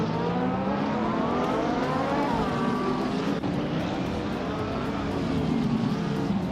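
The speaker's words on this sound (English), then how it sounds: "Lian is driving a Lamborghini Murcielago from 26." A Lamborghini Murcielago racing in a video game, its engine a steady loud drone with rising and falling pitch sweeps, continuous for several seconds with no talk.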